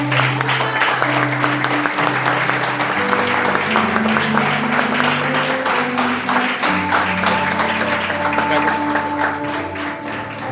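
A church congregation applauds during a service: dense, steady clapping throughout, with sustained keyboard or organ chords underneath.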